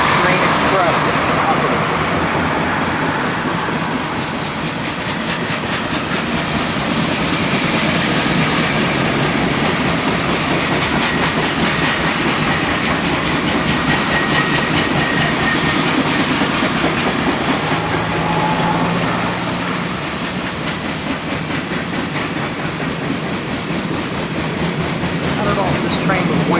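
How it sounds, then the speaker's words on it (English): A CSX freight train passes close by on a windy day, a continuous loud rumble with rhythmic clickety-clack of wagons over rails. "CSX Train Express."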